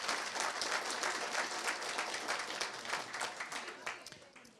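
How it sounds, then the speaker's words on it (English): An audience gives a round of applause at a gathering, dense sustained clapping from a crowd that stays loud throughout and tapers slightly at the end. "yes, a round of applause, thank you."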